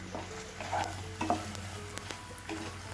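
Carrot halwa being stirred in a pan over a low flame, a soft spoon scraping and shuffling through the thickened mixture with faint sizzling underneath, close and quiet.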